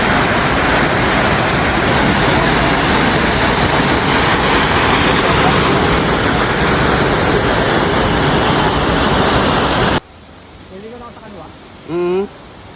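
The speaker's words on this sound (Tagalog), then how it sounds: "Grabe, solid view talaga ang Auasin Falls." Aw Asen Falls in Sigay, Ilocos Sur roars loud and close as a constant rush of water for about ten seconds, then cuts to a quiet scene where a voice is heard.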